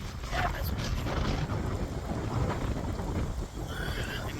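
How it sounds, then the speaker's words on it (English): Strong wind buffets the microphone with a steady low roar and rumbling gusts throughout, loud and close. "You can see and probably hear how windy it is out here."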